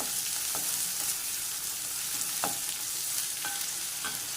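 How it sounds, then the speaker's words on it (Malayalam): Green chillies and curry leaves sizzle steadily in a hot pan, a continuous frying hiss broken by a few light spatula taps and scrapes as they are sautéed. "ഇതൊന്ന് വഴറ്റിയെടുക്കാം. ചെറുതായിട്ട് വഴറ്റിയാൽ മതി."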